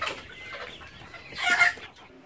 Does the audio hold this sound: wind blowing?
no